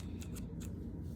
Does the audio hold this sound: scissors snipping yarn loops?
yes